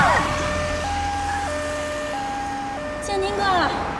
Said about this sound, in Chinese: 那是辆救护车。